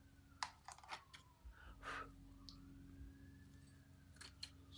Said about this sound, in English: Siren, siren, siren.